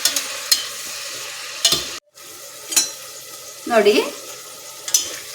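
Fenugreek leaves fry in a little oil in a pan for a menthya bath, with a soft steady sizzle and occasional scraping stirs of a spatula, one brief word spoken over the cooking.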